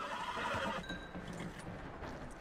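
A horse whinnies loudly in Red Dead Redemption 2, a long, bright neigh that fades into softer snorting and quiet movement.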